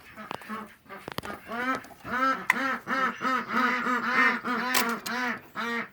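Ducks kept in a coop with chickens quack in a loud, rapid, continuous series of harsh calls, close by and overlapping, after a few brief voice fragments at the start.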